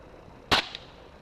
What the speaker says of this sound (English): Obviously I'm not wearing hearing protection because I am using a suppressed firearm.